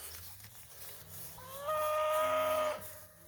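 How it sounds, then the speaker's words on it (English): A cow on a pasture of fall stockpile forage lets out one long, loud, tonal moo that rises and holds for about a second before cutting off, with quiet outdoor background before and after. "my goodness, we got a fat cow there."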